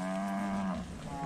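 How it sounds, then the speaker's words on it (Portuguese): A cow in a pasture gives one loud, close moo, a sustained low bellow that falls away near the end. "essa vaca aí"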